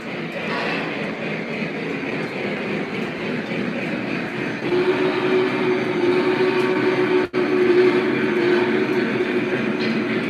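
A long coal train with ore cars rumbles steadily past, its wheels and cars producing a continuous loud roar with a faint squeal partway through and no talking.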